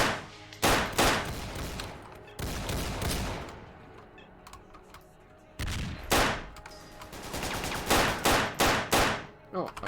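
Exchanges of gunfire from an AK rifle and a Makarov pistol in STALKER Faction War, loud close bursts and single shots separated by brief quiet gaps, with a few rapid shots clustered near the end.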